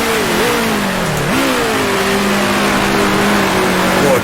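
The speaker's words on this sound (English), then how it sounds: "Don't want to rev it too hard." A 1966 Formula One car in the racing game Grand Prix Legends, driven in the BRDC International Trophy. Its engine drones loud and close, with a steady high rev. The pitch dips twice at gear changes, then holds an even, sustained roar.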